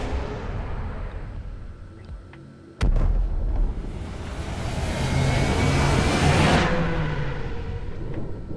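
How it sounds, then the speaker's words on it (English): A missile launcher fires in the video game Mass Effect 2. A sudden loud blast is followed by a roaring, rising rush that swells for several seconds and then cuts off sharply, heard alone and close. "I'll switch the missile launcher for now."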